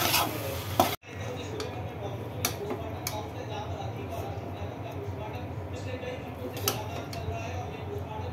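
Veg chowmein noodles with black pepper being stirred in a pan, giving scraping and clinking strokes at an irregular pace close by, while someone talks over them.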